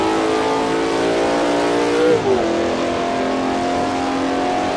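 A 25 HDT Ultra Commodore touring race car in a sim racing game, its engine droning loud and steady at high revs while climbing a hill, with a brief pitch dip as it shifts gear midway, no talking.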